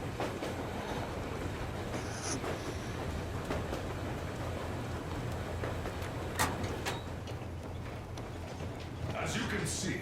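A moving train in the video game Metro Exodus rumbles steadily with a low, continuous rolling drone and occasional rattles and clanks, heard from on board with talking over it throughout.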